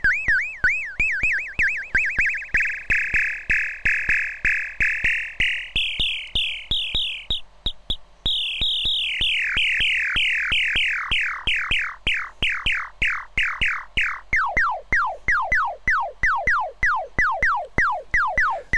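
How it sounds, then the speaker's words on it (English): Coron DS-8 clone analog drum synth producing an Atari-like sound, a rapid string of repeating chirpy pitch sweeps whose speed and pitch shift over time, loud, close and uninterrupted, with no voices. "So any of you want to make an Atari sound without the chips that are hard to find, here you go."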